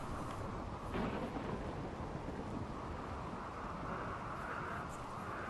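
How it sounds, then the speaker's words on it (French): Thunderstorm in the video game Rimworld: a steady, faint rumble of rain and wind with a soft thunder swell near the start, heard alone. "par contre, on a un orage"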